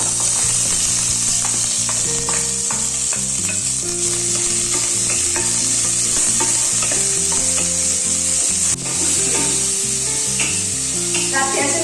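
Chopped onions frying in a pan for a special kurma, a steady loud sizzle with frequent stirring and scraping clatter throughout, close and without talk.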